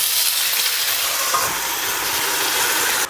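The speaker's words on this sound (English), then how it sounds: "You wanna be careful when you do that because it's gonna splatter all over the place because of the oil." Tofu gyoza fry in oil in a covered pan, a loud continuous sizzle and hiss with crackling splatter that holds steady for a few seconds.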